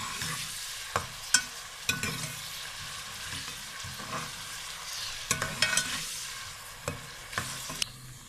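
Onions frying in a pan and stirred for a Punjabi-style cauliflower and potato dish, giving a steady sizzle with scraping spoon strokes every second or so and a few sharper clinks, close up with no talking.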